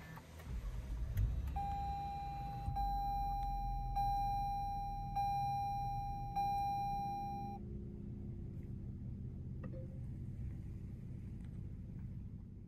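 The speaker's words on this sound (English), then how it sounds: "Let's go ahead and start the vehicle." A 2022 Lexus ES350 Ultra Luxury sedan starts up, its cabin chime beeping at a steady, evenly spaced rhythm for several seconds over a low, quiet engine rumble that continues after the chimes stop.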